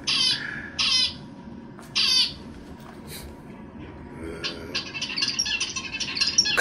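A pet bird with a red beak and yellow cheeks squawks in several sharp, loud bursts near the mic, then chirps and rattles more busily toward the end, with no talk.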